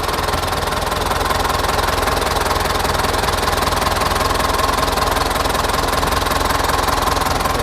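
A Ford farm tractor's diesel engine runs steadily at idle, a loud, close, continuous knocking rumble with no talk over it.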